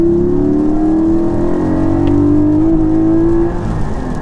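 A manual Porsche Cayman 718 GT4 engine revs loud and close, its note climbing steadily toward the top of the rev range before easing off near the end.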